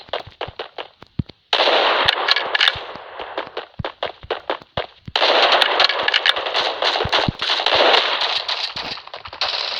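Gunfire in the shooter game Bullet Force: rapid sharp cracks and bursts of automatic fire, loud and close, over dense noisy stretches of battle sound, with a brief gap near the start.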